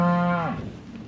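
A single close, loud moo from cattle on open moorland at Dartmoor, a short low bellow that fades quickly.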